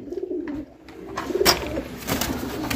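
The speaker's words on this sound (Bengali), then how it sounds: "এখানে একটা সিঙ্গেল কবুতর আছে" A red Lahori male pigeon coos in soft, rolling low notes, close by, with faint background noise and no talking.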